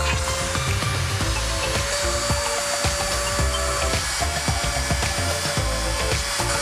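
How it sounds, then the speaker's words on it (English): A Dremel rotary tool spins continuously at close range, a loud steady high-pitched whine with gritty grinding texture throughout, no voices over it. "Have you used a Dremel before? It just spins."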